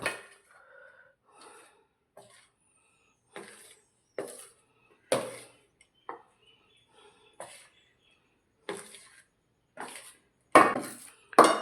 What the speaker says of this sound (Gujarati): જો આ રીતે તાવેતાથી બધું મિક્સ કરી લઈશું